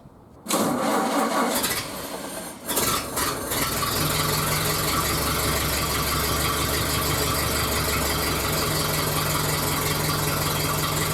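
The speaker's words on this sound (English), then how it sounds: "the amount of rattling that you feel is definitely coming from the engine" A freshly rebuilt car engine cranks and catches, then settles into a loud, steady idle with a persistent mechanical rattle running underneath, close by and without talk.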